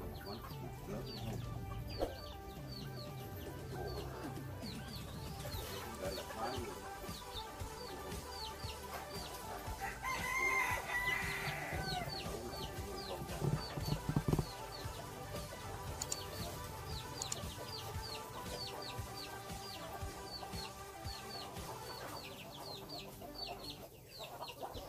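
Farm chickens cluck steadily and roosters crow now and then in a Vietnamese village yard, a dense, continuous chorus of hens at close to middle distance with no talk over it.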